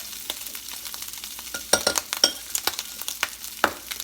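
A pan of scrambled eggs on a stovetop, shaken and stirred: soft scraping and clinks of the spoon over a faint sizzle, with several sharper knocks in the middle and one near the end.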